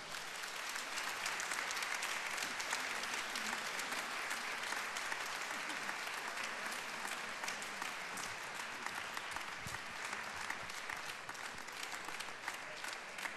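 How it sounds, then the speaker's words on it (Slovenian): Sustained, loud audience applause fills a hall at a regional sportsperson-of-the-year ceremony in Mozirje, dense continuous clapping from a large crowd welcoming a guest athlete, with faint voices underneath. "Dajmo močan aplavz za našo simpatično Tanjo."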